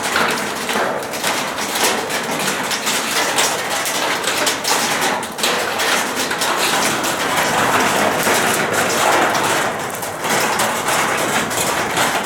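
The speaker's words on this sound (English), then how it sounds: "you wouldn't think it would be raining right now" Steady rain pours down at Barefoot Campground during a severe storm, a dense, even hiss of drops drumming on surfaces, loud and continuous, with a low rumble like an engine beneath it.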